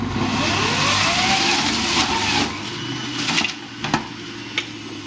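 A loud, steady motorized whir runs continuously, then eases off into lighter intermittent clunks and rattles near the end.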